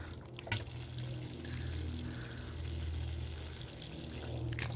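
Water pours steadily into a carnivorous plant tray in a winter garden, a soft continuous trickle heard close up with a faint knock at the start and end.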